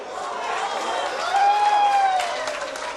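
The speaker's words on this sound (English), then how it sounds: "The crowd is going crazy with every shot that this guy makes" A crowd at a pool match, watching Efren Reyes, breaks into loud sustained applause and cheering after a shot, a dense clapping wash that swells midway and then eases off, with a whistle cutting through.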